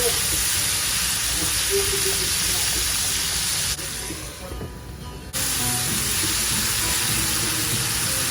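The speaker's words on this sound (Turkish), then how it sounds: "Şimdi domateslerin de sotelenmesini sağlayalım." Peppers and tomatoes sauté in a hot pan with a constant loud hiss and sizzle that briefly drops lower near the middle before returning full.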